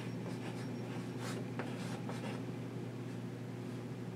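A pen writing on paper while marking a drawn line, a steady faint scratching under a constant low hum, with no talking.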